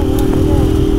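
A Yamaha XJ6 motorcycle engine with a strange noise runs steadily in a loud, close, continuous drone with a low rumbling idle and no break.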